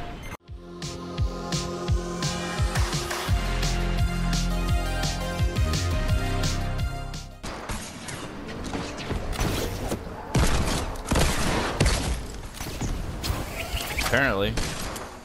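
Rapid bursts of gunfire and clanking mechanical sounds from a video game shooting match, dense and loud in the first half before giving way to scattered blasts, with a player talking over the action.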